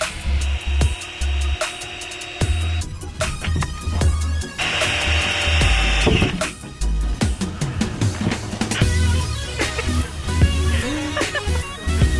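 Power tool cutting through the fiberglass and Bondo rear hatch of a Datsun 240Z to fit a BRE spoiler, a loud, steady buzzing saw with scraping and rubbing broken by brief pauses, close up and without speech.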